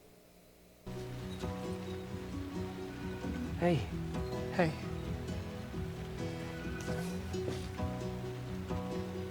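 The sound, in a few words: rain falling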